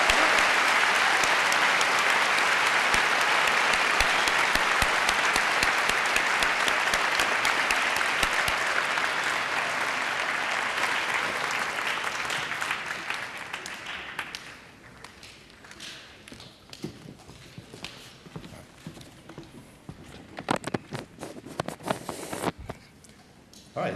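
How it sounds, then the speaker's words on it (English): Sustained audience applause at a high school Veterans Day ceremony, loud and dense for about twelve seconds, then thinning into scattered claps and taps as it dies away. "please join me in a round of applause for all the men and women who have bravely served our country"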